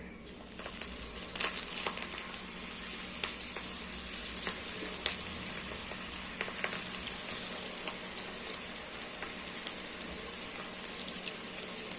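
Onion pakoda made with gram flour fries in hot oil over a medium flame, giving a steady, soft sizzle with scattered crackles and pops throughout.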